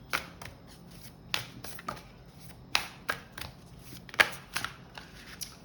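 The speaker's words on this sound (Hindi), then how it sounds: "मेरे को एक कार्ड निकालने दो।" Tarot cards shuffled close by in quick irregular riffles and slaps, quiet and without talk, before one is drawn.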